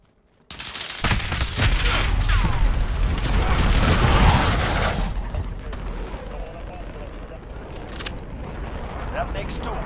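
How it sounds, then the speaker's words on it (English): Cruise missile launch in Call of Duty: Modern Warfare, a loud roaring blast that swells and rumbles for several seconds over battlefield gunfire, with voices talking through the noise. "Cruise missile launched."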